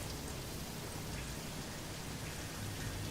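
Steady rain falling in the video game Satisfactory, a dense even hiss of drops with a low rumbling undertone, constant and close throughout.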